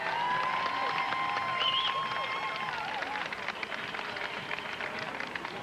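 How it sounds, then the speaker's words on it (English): A large outdoor crowd at the 2003 Los Angeles Marathon applauds the race winners with a steady wash of clapping, blended with scattered cheers and crowd voices. "we urge the audience to give them a round of applause"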